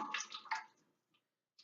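Liquid for homemade oatmeal bar soap is poured into a mixing pan. A short, soft, splashing pour lasts under a second, followed by a few faint drips, recorded close up in a quiet room.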